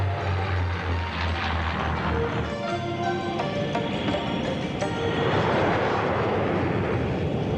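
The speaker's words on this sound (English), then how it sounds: "The Constellation launched her complement of Sky Raiders and Skyhawk jets to join the strike force." On an aircraft carrier deck, Skyraider and Skyhawk jets launch in a loud, continuous roar of engines and rushing air, rising and swelling throughout with no voices.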